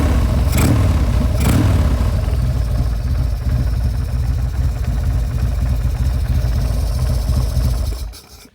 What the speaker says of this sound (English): I'll give you guys a couple revs here.